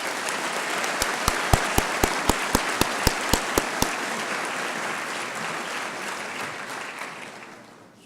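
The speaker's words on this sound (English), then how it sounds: "Could we please have a round of applause for this group?" Steady applause from an audience at a scholarship reception honoring a group of recipients, with a series of sharper, louder individual claps near the front in the first half before the clapping thins and fades.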